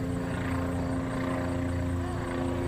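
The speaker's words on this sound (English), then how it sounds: "This helicopter is what we're watching." A helicopter flies overhead about half a mile off during a police manhunt in Pennsylvania, its steady rotor drone loud, constant and unbroken throughout.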